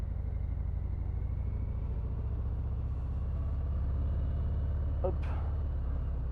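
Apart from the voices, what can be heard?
Harley-Davidson FXDR 114 motorcycle engine while riding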